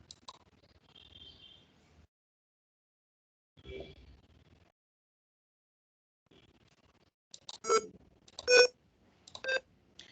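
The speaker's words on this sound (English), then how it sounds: "you have a one piezo buzzer through which you are able to control the sound." A piezo buzzer in a Tinkercad Arduino simulation, controlled by push buttons through the tone function, gives short scattered electronic tones and beeps between gaps of silence, ending with a quick burst of several bright notes.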